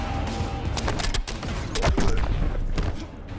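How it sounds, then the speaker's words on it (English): Predator's close trap going off as an explosion in the fighting game Mortal Kombat X, a dense volley of sharp blasts and thuds crackling in quick bursts over a steady rumbling game soundscape, loud and close. "So close trap is basically like explosion"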